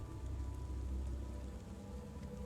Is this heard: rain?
yes